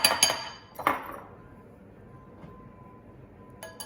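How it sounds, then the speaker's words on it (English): A spoon clinks and scrapes against a bowl while ketchup and spices are stirred together, with a few sharp metallic knocks near the start and a faint tap near the end, otherwise quiet. "And then I'm gonna mix this all together."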